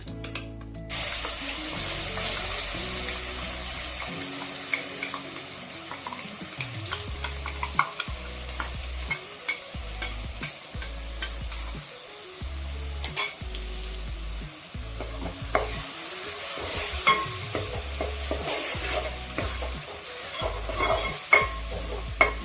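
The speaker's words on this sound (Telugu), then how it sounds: "ఈ ఉల్లికారం బాగా వేగేదాకా ఒక 2-3 నిమిషాలు వేయించుకుందామండి." Onion chilli paste with curry leaves fries in a pan while being stirred, a steady sizzle broken by frequent scraping strokes and clinks, close and continuous with no talk.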